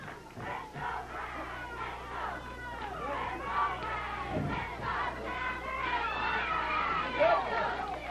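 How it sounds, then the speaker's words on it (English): Wrestling crowd at a 1984 Georgia match chanting in rhythm, a dense, sustained wall of voices at moderate distance with rising energy toward the end. "you can hear the crowd picking up that chant"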